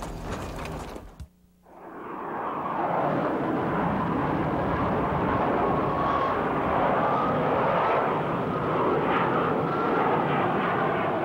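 An F-14 fighter jet flies with a loud, sustained broadband engine roar that holds steady for about ten seconds after a brief quiet gap at the start.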